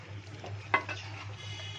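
Chicken fry sizzles softly in a pan as it is stirred, a low steady frying hiss with one clear scrape of the utensil near the middle. Nobody speaks.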